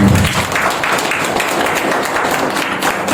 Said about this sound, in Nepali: प्रभुलाई ताली बजाउन